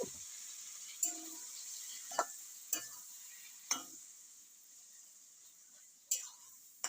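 Banana flower with green chili and ginger paste is stirred in a kadai: sharp spatula taps and scrapes at irregular intervals over a faint, quiet sizzle.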